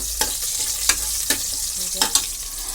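Toor dal roasting in a pan for a simple dal, with a low steady sizzle and a few sharp stirring scrapes spaced through the stretch, close and moderately loud, no voices.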